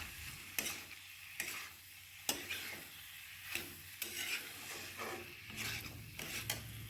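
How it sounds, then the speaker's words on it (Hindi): Jackfruit frying with spices in a pan, stirred with a spatula that scrapes in periodic strokes over a quiet, low sizzle. "तो कटहल डाल के अच्छी तरह से भूनूंगी।"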